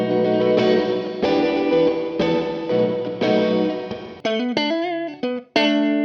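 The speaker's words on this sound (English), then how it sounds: "And finally the cathedral, which is ridiculous. Yeah. It's just giant. Definitely the biggest reverb that we've got." An electric guitar through an Audient Sono interface's cathedral reverb plays a series of sustained chords and then a short melodic riff, each note ringing out into a huge, washy reverb tail.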